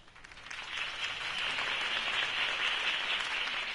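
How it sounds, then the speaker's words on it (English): A crowd applauds after a mayoral campaign speech in a Batman Telltale video game, a dense wash of clapping that swells and holds steady, moderately loud and heard alone. "If only Mr. Wayne, my campaign's largest backer, could have heard that applause"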